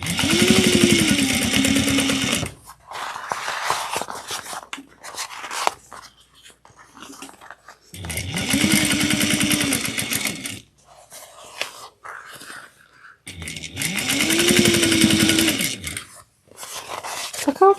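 A sewing machine stitching a small holiday stocking runs in three loud whirring bursts, each about two to three seconds long, separated by quieter pauses with faint handling sounds.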